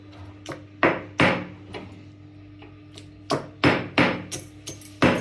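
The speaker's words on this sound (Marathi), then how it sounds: "खलबत्ता लहान आहे त्यामुळे 1 बाय 1 चेचायला नाहीतर पाटावर वाटून घ्यायची चालतात" A small mortar and pestle crushes ingredients for an egg sambar, sounding as sharp, irregular wooden knocks, about ten close strikes, some in quick pairs, with quiet gaps between.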